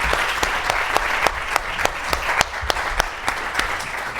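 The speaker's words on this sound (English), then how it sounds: "let's give our panelists a round of applause" An audience claps steadily for a few seconds for a discussion panel, a dense burst of hand claps with some sharper individual claps standing out.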